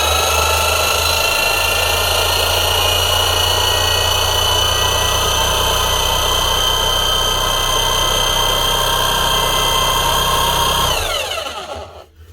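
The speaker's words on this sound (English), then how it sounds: "after a few seconds of running, you'll actually hear the motor pick up speed as it works through that heavier grease" An old Makita hammer runs its motor on heavy grease, a loud, steady whine that holds for about eleven seconds, then cuts off and spins down to quiet.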